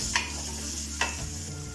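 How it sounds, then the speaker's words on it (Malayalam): Ginger garlic paste fries in a pan with a steady sizzle, broken by two sharp scraping strokes of a spoon stirring it, close and clear with no talk. "ഇഞ്ചി വെളുത്തുള്ളി പേസ്റ്റ് ഇതേ പെട്ടെന്ന് കരിയും, നമുക്കൊന്ന് ഇളക്കി കൊടുക്കാം."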